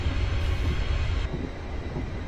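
Low rumbling train braking in Train Simulator 2016 on a Glasgow Airport Rail Link route, a steady heavy drone with a brief airy hiss that cuts off partway.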